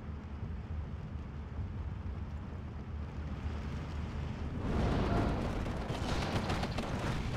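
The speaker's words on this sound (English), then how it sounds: "Mortar is going to be the only thing holding up, and it's shooting at nothing." Booming mortar fire rumbles in a strategy video game, a continuous low crackling roar that swells louder partway through, dense and heavy with no talk over it.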